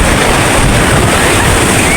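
Strong ocean waves crashing at a beach in Lian, Batangas, a loud continuous roar of surf mixed with heavy wind buffeting the microphone.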